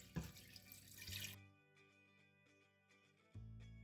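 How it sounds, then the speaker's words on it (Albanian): About two litres of water pour into a cooking pot over duck meat with lemon for a lemon rice soup: a brief rushing splash, a quieter trickling stretch, then the flow starts up again near the end. "I shtojmë 2 litër ujë."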